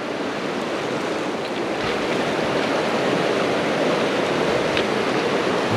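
Deep, sediment-laden glacial river in a remote Arctic wilderness rushing steadily during a crossing, a loud, continuous broadband roar with no pauses and no talking.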